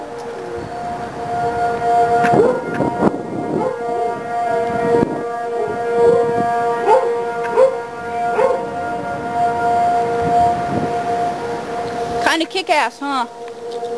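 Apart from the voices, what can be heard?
tornado warning civil defense siren going off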